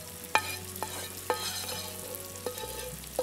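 Masala being stirred into egg thokku frying in a pan, with a steady low sizzle under several distinct spoon scrapes and clinks against the pan spaced about a second apart, close and moderately loud.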